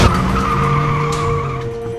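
A car in an animated film skids with a loud, sustained tire squeal and tonal screech that fades slightly toward the end, with no talk.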